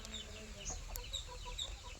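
Backyard chickens kept in a cool shaded spot under trees, faint scattered clucks and short calls over low background noise.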